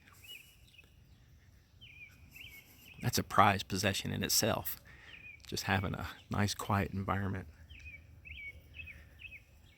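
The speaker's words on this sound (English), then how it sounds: "You hear a few birds chirping." A few birds chirp faintly outdoors in a quiet residential setting in Nolensville, short repeated high tweets scattered through the quiet stretches, with someone talking in the middle.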